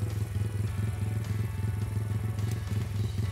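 A Kayo 140 pit bike engine runs steadily at close range, a loud, continuous, throbbing single-cylinder idle with a rough, pulsing rhythm and no talk.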